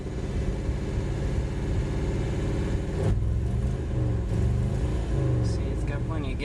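A car engine running on woodgas with no gasoline, a low steady rumbling idle with a mid-pitched hum and a brief shift in tone partway through, heard close and alone.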